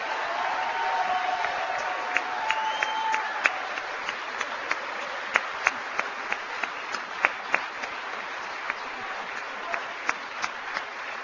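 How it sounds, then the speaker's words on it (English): A political rally audience in Arizona applauds at length, a broad wash of clapping with scattered sharper claps and faint cheering, fairly loud and steady for over ten seconds. "Let's give them a round of applause"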